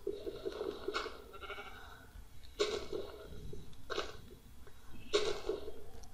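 Sheep in the Minecraft video game bleat in short repeated calls, four distinct bleats spaced a second or so apart over a quiet background.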